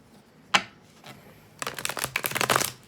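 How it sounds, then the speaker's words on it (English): A deck of tarot cards shuffled up close: one sharp snap, then a quick run of dense riffling flutters that build for over a second, with no talking. "Let's shuffle."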